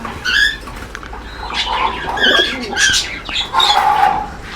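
Lotan pigeons in a coop cooing in soft, repeated throaty calls, close by and fairly loud, with a faint rustle of wings and movement in between.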